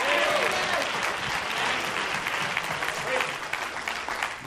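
Church congregation applauding during a sermon, a steady, dense wash of many hands clapping at once that stays loud throughout, with some voices mixed into the crowd noise.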